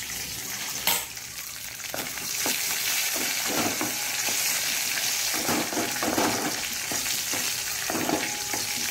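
Curry leaves fry in hot oil with a dense, loud sizzle and crackle that stays steady throughout, broken by a few spoon taps and stirring scrapes.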